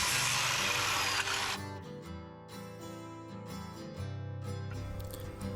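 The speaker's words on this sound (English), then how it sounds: "Here I'm measuring and cutting all my wall studs to size so I can build the walls and get them stood up" A power tool whines loudly at close range while cutting wall studs to size during off-grid cabin framing, the sound shifting and dropping in pitch as the cut progresses, with no talking.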